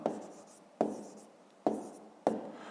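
Pen strokes on paper as a number is written by hand during a fifth-grade maths exercise, four short scratchy bursts close by, each starting sharply and fading, with no talk.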